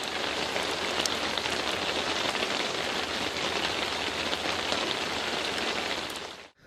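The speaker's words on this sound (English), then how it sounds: "rain pouring down." Heavy rain pours down on a road, a dense, loud, steady hiss and patter filling the whole stretch before cutting off abruptly at the end, with no voices.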